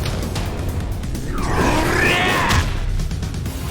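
A bone-crunching special move in Lost Judgment: a loud whooshing smash and crunch building to a peak in the middle, layered over a background of game noise.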